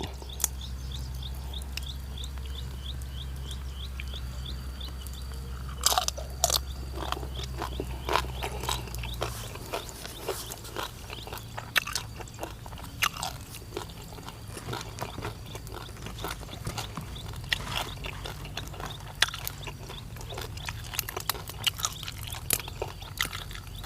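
Crackly bites and chewing on crispy roast suckling pig skin, close to the microphone, a series of irregular crunches and snaps over a low background hum that fades partway through.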